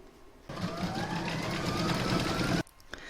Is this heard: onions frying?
no